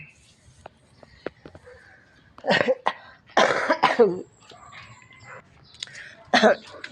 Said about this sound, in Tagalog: Inuubo na naman ako.